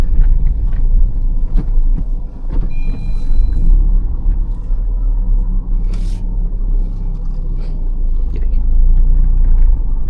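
A car rounds a 90-degree corner slowly on a narrow road, its engine a steady loud low rumble heard from inside, with faint clicks and brief higher tones over the drone.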